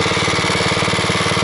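A Bolens Husky 600 garden tractor engine runs steadily close by, a loud, even mid-pitched putter with a quick regular firing rhythm and no voices over it.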